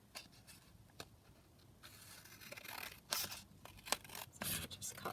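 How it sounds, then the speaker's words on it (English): Scissors snip through paper while an edge is trimmed off a printed sheet for a junk journal, a few close, sharp cuts with some soft rubbing and scraping of paper on a desk. "I'm just going to cut this edge down here because it's obviously very white."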